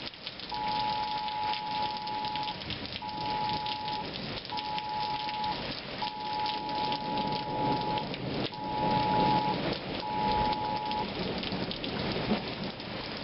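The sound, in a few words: cold rain falling outside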